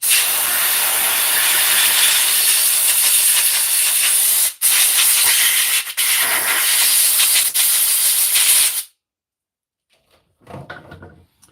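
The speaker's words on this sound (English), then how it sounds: "And we're going to dry it with the compressor." An air compressor blowing air to dry a part, a loud steady hiss lasting about nine seconds with a few brief breaks, then silence and a short fainter puff at the end.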